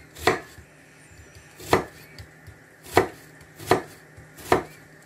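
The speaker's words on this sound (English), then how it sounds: "Once the onions are washed, I'm going to go ahead and give it a good chopping." A knife chops washed onions on a board, five sharp, evenly spaced thuds about every 1.3 seconds, close and clear with no talking.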